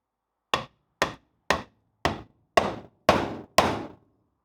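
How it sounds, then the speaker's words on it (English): Seven sharp hammer blows drive a wooden 2x2 bush into the eye of a Land Rover leaf spring, evenly spaced about half a second apart, each a hard woody knock that grows slightly louder and ringier toward the end, close by with no talk. "I'm just going to hammer that into the end of this"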